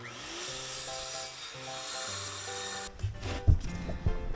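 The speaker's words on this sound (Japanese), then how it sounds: "とりあえずこの合板を 80×80 に切って" Music with sustained tones plays at first, then a handsaw cuts plywood into 80×80 pieces with a few short, rough rasping strokes close by.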